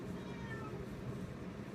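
A house cat meows close by in a workshop where epoxy is being applied to door panel fasteners, a faint drawn-out cry over a steady low background hum.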